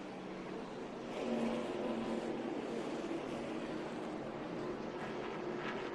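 A NASCAR Cup Series stock car spinning around on the racetrack, heard as a broad, steady engine and tire roar that swells after the first second and holds at a distance, with no talking.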